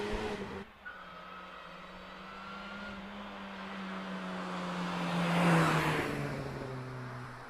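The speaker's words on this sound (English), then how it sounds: "As around Barton goes the Mini" A Mini race car runs around Barton bend at the Prescott speed hill climb, its engine note heard from a distance and rising to a peak as it draws nearer, then fading a little.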